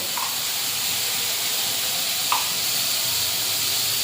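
Chicken pieces sautéed in a pan with salt and meat masala give off a steady, even sizzle and hiss that runs throughout at moderate loudness, with no voices.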